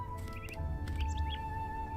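Birds chirp and tweet in short, high calls within a PUBG game trailer for a new snowy winter map, set over a steady low rumble and a sustained tone, with no talking.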